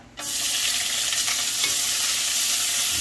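Ginger hits a hot pan and starts sautéing with a sudden loud sizzle that stays steady and close to the end.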